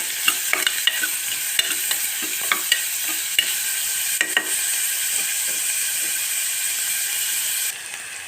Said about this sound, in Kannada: ಈಗ ಉಳ್ಳಿಗಡ್ಡೆ ಕಟ್ ಮಾಡಿಟ್ಟಿದ್ನಲ್ರಿ ಅದನ್ನು ಹಾಕ್ತೀನಿ ಸ್ವಲ್ಪ ಫ್ರೈ ಆಗಲಿ